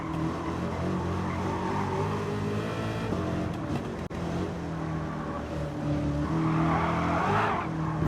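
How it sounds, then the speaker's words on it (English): Corvette C8 ZR1 on the Nürburgring, its engine droning loud and steady at high speed while tires squeal and skid through a spin, the screech swelling near the end. "I do about 233 miles per hour into a corner and completely spin out"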